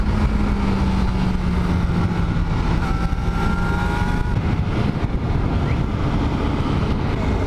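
Motorcycle riding at speed, its engine pulling hard, with a steady engine drone and rising tone heard close up under heavy wind rush across the microphone.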